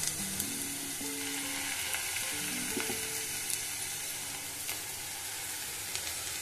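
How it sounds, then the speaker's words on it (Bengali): Split pea (matar dal) fritters fry in hot oil, a steady close sizzle and crackle with faint scattered pops and a few light utensil taps, no voices. "এইমাত্র আমি মটর ডালের বড়া তৈরি করলাম"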